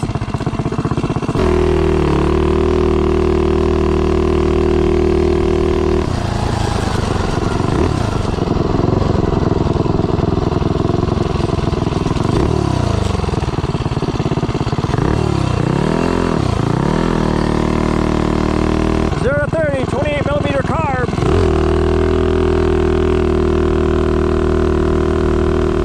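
A 223 stroker engine with a 28mm PWK carburetor runs loud and close for a long stretch, with repeated throttle blips rising and falling in pitch over a steady running drone.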